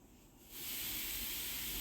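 Suji pizza pieces hit a lightly oiled frying pan on a gas stove, and a soft, steady sizzling hiss starts and holds, fairly faint and alone.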